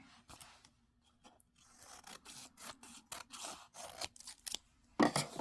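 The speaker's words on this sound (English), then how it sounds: "snip some of it." Scissors snip through craft material in a series of sharp, close cuts and rasping slices, with quiet pauses between bursts and a louder final snip.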